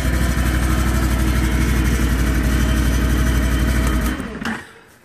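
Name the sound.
Can-Am Renegade 570 ATV engine idling with rattle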